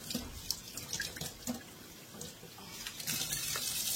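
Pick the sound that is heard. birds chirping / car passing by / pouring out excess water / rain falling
pouring out excess water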